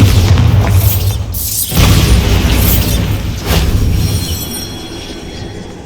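A Bombarda spell explodes in Hogwarts Legacy on Xbox Series S, a loud booming blast followed by a second burst and a rumbling decay, with no talking.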